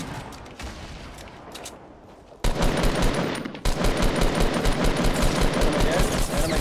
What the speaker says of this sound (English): We're getting sniped at from the west.